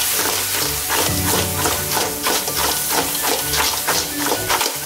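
Crab masala with chilli powder, turmeric and salt being shaken and tossed in a wide pan, giving a steady sizzling, rattling clatter with rhythmic bursts throughout, fairly loud and close, no talking.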